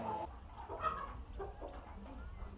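Laying hens and other poultry at an animal research institute in Ghana, clucking and murmuring close by in short, irregular calls over a low background rumble.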